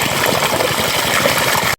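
Steady rushing water pours and splashes continuously at close range as water is filled in a village in winter, a dense unbroken flow that cuts off abruptly at the end.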